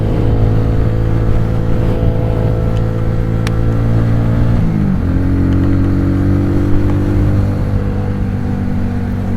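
An XMT 250 motorcycle engine runs loud and close, revving steadily, then dipping briefly and climbing again in pitch as it accelerates, with no talk over it.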